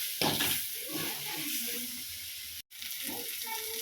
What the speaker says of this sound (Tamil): கொஞ்சமாக சேர்த்து நல்லா பரட்டி விட்டுட்டு கொத்தமல்லி சேர்த்துக்கலாம்.